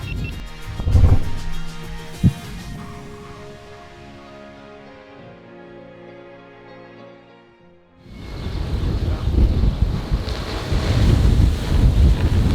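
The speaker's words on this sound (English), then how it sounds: "the wind is pumping" Wind gusts buffet the microphone outdoors on an open farm field, loud rumbling bursts at the start, a calmer stretch with a low tone, then strong broadband wind roar returning and building through the end.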